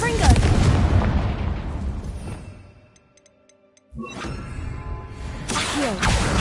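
In Hogwarts Legacy, Confringo spell blasts erupt in loud booming explosions, fading into a brief near-silence with faint chimes before another heavy burst roars back and rumbles on.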